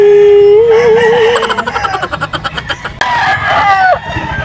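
A rooster at a gamefowl market in Bulacan gives one long, loud crow close by, with clucking and faint crowd noise from other fowl behind it.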